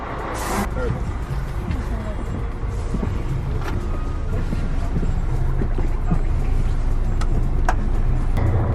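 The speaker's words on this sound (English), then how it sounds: "so we're on the bus now. It's a nice big coach this time." Steady low rumble of a big coach bus driving along a road, heard from inside the cabin, continuous and fairly loud with occasional knocks and a brief hiss early on; a voice speaks over it.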